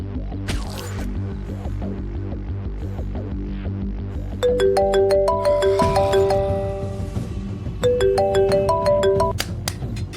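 A phone rings unanswered in a Tamil TV drama scene, its electronic ringtone melody repeating in two bursts over a low steady hum, fairly loud and close with no voices.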